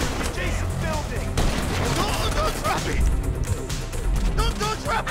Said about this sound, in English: There's guys shooting at you, Mikey!